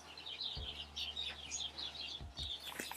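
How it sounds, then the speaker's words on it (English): Birds chirp and tweet busily outdoors, a steady chorus of small calls layered over one another, with a couple of low thumps underneath. "Why are the birds going nuts right now? What's up with the birds?"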